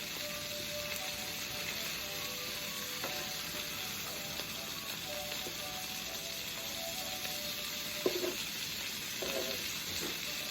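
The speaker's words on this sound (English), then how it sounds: "As we try to get all this bacon cooked." Bacon frying in a pan gives a steady, close sizzle and crackle throughout, with a few soft clinks of utensils near the end.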